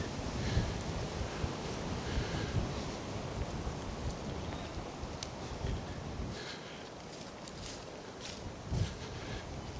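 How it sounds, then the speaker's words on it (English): Continuous wind buffets the microphone with low rumbling gusts throughout, steady and loud, beside a cattle field, with no voices. "Oh, it is windy."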